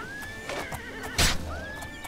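A horse whinnies during a Minotaur fight in the video game Oblivion, with a rising neigh, snorting, and a sharp loud burst of combat noise in the middle, set against a steady tonal game background.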